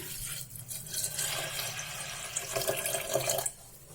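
Water pours steadily into a metal pressure cooker from a tap for a few seconds, a continuous splashing rush that stops abruptly near the end.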